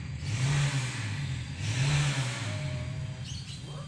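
A 2010 Isuzu ELF NKR 55 short-chassis truck diesel engine, one that has had an engine overhaul, runs close by with a steady low rumble that swells twice as it is revved, with no voices.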